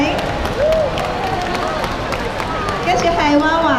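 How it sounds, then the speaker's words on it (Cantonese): A crowd at a Mother's Day children's carnival claps for a young performer: dense, continuous clapping and hubbub throughout, with a voice speaking over it. "俾啲掌聲晴晴"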